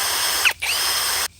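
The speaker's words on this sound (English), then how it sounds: "Hammer drill." A hammer drill runs loud and close in a steady whine, dipping briefly mid-run before spinning back up, then cutting off abruptly near the end.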